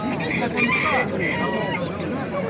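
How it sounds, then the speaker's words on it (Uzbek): Decorative Serama chickens clucking at a poultry market, close, busy warbling cackles over a dense crowd murmur, with people talking nearby. "mana dekorativ tovuqlar"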